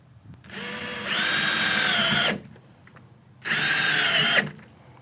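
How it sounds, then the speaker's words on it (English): A power drill drives set screws into the hinges of a WinDoor BF1199A/BF1099A bi-fold door: two loud, close whirring runs, the first rising in speed partway through, separated by a short pause. "After all adjustments have been made, install your set screws at every hinge."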